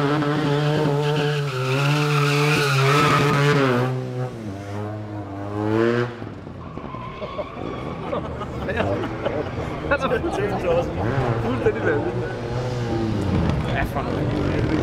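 A stunt motorcycle at a Red Bull show in a park revs loudly, its engine pitch climbing and falling, then tires skid and squeal on pavement amid crowd noise while an announcer talks over it.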